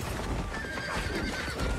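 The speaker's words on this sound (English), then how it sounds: "Horses, baby!" Horses gallop and neigh during the Rohirrim cavalry charge in The Lord of the Rings: The Return of the King. A dense, continuous roar of hooves fills the whole clip, with loud whinnies rising over it.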